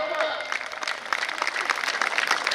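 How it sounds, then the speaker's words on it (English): Steady applause from a crowd, dense clapping that holds at an even level for a few seconds with no pauses. "So give a big round of applause for yourself."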